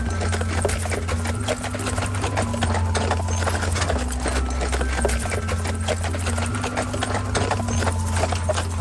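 Hooves of a white Camargue horse clip-clop steadily and close by in the Vigueirat marshes, a rapid continuous clatter over a dense rumbling background with no talking.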